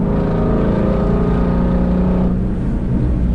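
A Ford Mustang GT350 runs loud and close, its V8 holding a steady, rumbling roar with a slight dip in intensity near the end.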